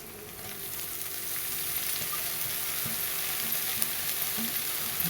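Tender green chickpea leaves frying in hot oil give off a steady, bright sizzle that swells slightly and holds at a constant level, with occasional soft clinks and scrapes of stirring and no talking.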